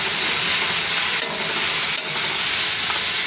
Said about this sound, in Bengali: আলু গাজর ডিম করেছি, একটু ভেজে নিচ্ছি।